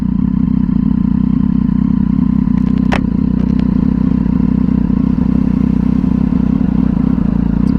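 A 2011 Triumph Street Triple 675R idling, its engine giving a loud, steady, close low rumble with a faint whine on top and a brief mechanical click partway through, no voices.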